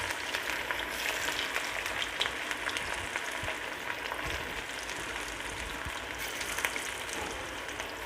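Chicken pakoda pieces frying in hot oil, a dense, even crackling sizzle like steady rain, close and continuous, with occasional faint pops and no talking.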